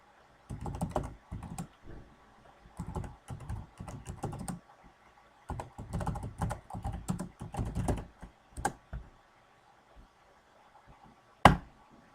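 Keystrokes on a computer keyboard as a command is typed into a Cisco ASA console, quick bursts of close clicks in irregular runs with short pauses, ending in one louder key press like an Enter.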